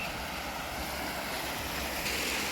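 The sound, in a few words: water trickling from a small fountain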